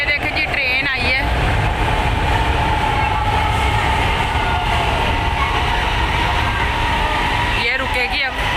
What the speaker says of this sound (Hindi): ये देखें जी ट्रेन आई है।